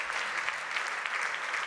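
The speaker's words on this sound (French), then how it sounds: "Vous pouvez applaudir mes deux intervenants." An audience at a fleet and mobility managers' gala applauds, a dense, even wash of many hands clapping without pause, fairly loud and close, with no clear voices above it.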